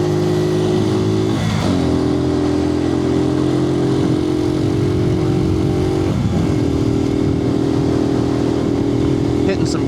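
Suzuki TU250X motorcycle on an evening ride, a loud steady engine drone picked up by a helmet mic, with a couple of audible gear shifts where the pitch drops and climbs again.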